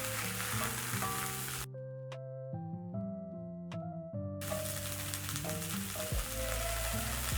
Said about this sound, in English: I've reduced the heat to medium flame so that I can saute my broccoli